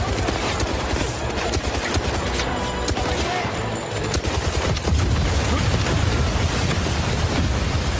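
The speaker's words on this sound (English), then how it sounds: "I love the explosions." Loud, continuous battle din of explosions and gunfire from the video game 007 First Light, a dense rumbling roar with rapid crackling bursts running throughout.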